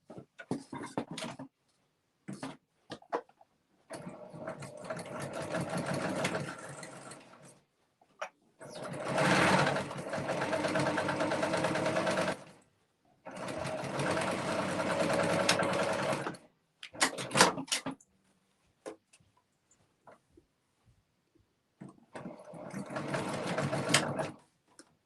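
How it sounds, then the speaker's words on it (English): An embroidery sewing machine stitches the curved part of a fabric mask in several long whirring runs, close and steady, broken by short pauses and clicks between bursts. "we are going to stitch a 1/4 of an inch, just this curved part first"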